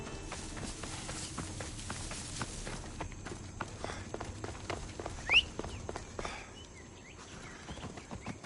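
Horse hooves clopping in the Assassin's Creed Odyssey game, a steady run of soft hoofbeats with ambient outdoor sounds and a brief bird call.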